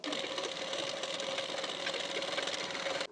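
A sewing machine stitches a hook strip onto a boat neck blouse, a close, steady, fast-running motor hum with rapid needle clatter that continues unbroken for a few seconds and then stops abruptly, no voices.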